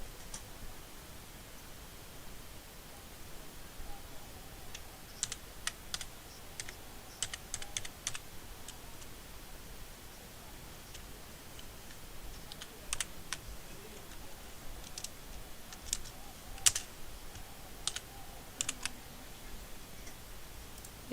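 Typing on a computer keyboard in a dimly lit room, soft irregular clicks coming in scattered bursts with pauses, faint and fairly close over a steady background hiss.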